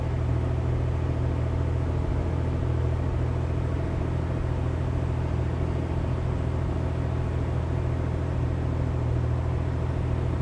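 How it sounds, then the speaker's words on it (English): A turbine-powered car engine idles while warming up, giving a steady, low, droning rumble with a faint whine. It is constant and even throughout, with no voices. "It takes a few minutes to get it up to temperature enough that it will sit here and idle."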